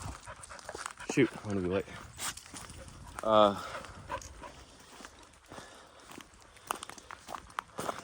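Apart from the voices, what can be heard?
dog panting and moving around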